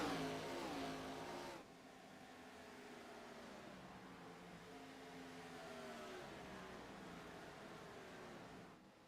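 A race car engine in a stock car racing video game on an oval, revving loudly at first with a falling pitch, then a steady, quieter drone of several engines continuing through to the end.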